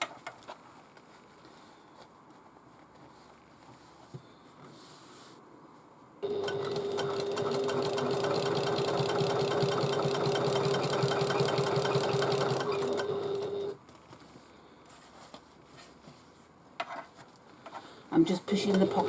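A sewing machine topstitches along an opened seam of a bag, a loud steady buzzing run of about seven seconds between quieter handling sounds and brief talk.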